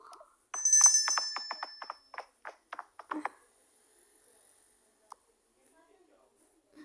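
A mobile phone rings with a bright warbling ringtone, a quick series of electronic pulses that fade out, followed by quiet.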